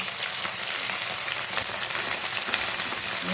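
Peas, cabbage, eggplant, potato, onion, green chilli and curry leaves sizzle steadily in a hot pan for Gujarati methi dhebra, a continuous bright frying hiss with no talk.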